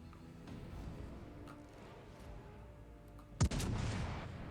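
Main guns on the tier 5 American battleship New Mexico fire in World of Warships: Legends, a single heavy, sharp boom followed by a lingering rumble over steady ambient game noise.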